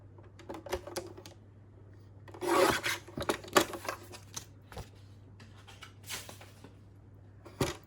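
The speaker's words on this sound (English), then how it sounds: "So I'm going to cut this about, say, 1 inch wide" A large cutter slices a one-inch-wide strip of paper for a December Daily scrapbook album, with close, quiet rasping strokes and taps in short bursts against a faint background hum.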